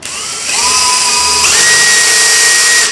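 A power drill whines steadily and loud while boring into wood for stairs, its pitch stepping up partway through as it bores, then cuts off at the end.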